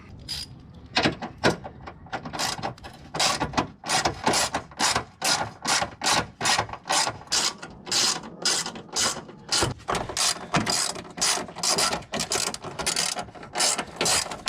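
Hand ratchet loosening 10mm and 12mm bolts on a Nissan Frontier Pro-4X fender, a steady run of sharp, close clicking bursts repeating throughout with no talk.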